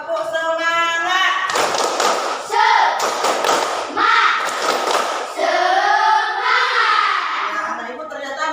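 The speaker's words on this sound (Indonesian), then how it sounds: "Tepuk semangat" A classroom of children performs a rhythmic spirit-clap routine, with loud patterned claps and thumps interleaved with their chanting voices, led by the teacher, close and energetic throughout.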